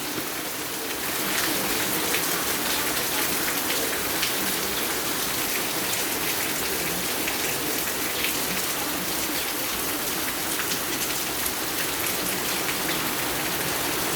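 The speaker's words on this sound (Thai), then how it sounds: "ฝนลงมาอย่างหนักเลย" Heavy rain pours steadily in Kanchanaburi, Thailand, a dense continuous hiss of drops on surfaces that stays loud and even throughout with no voices.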